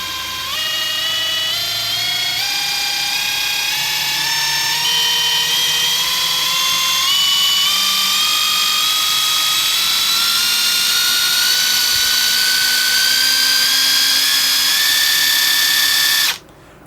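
Klein Tools BAT20CD compact impact driver spinning freely at variable speed, a steady whine rising gradually in pitch from slow to fast, loud and close, then cutting off abruptly at the end.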